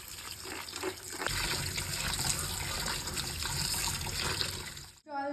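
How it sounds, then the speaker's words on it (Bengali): Running water gushes steadily over grated potatoes as they are rinsed in a kitchen, a close, continuous splashing wash that cuts off abruptly near the end. "আলুটা একবার ধুয়ে নেবো ভালো করে"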